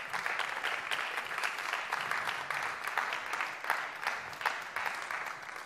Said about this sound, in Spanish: un aplauso para la gente de Ártica